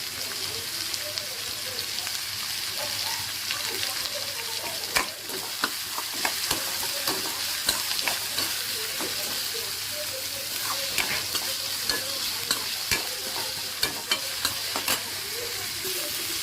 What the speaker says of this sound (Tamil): வெங்காயம் நல்லா வதக்கியாச்சு.